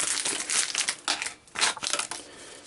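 A wound dressing packet tears open in a few quick, crinkly rips of wrapping, loud and close, with short pauses between pulls.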